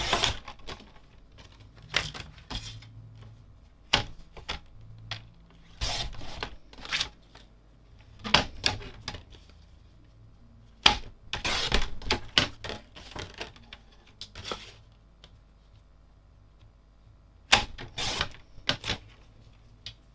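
A papercraft trimmer slicing cardstock in short, repeated bursts of sharp clicking and rasping cuts, close and moderately loud, with quieter shuffling between strokes and no talk.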